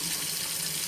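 Hot water gushing steadily from a water heater fitted with a flat plate heat exchanger, a loud, close, continuous hiss of running water without any break or talk.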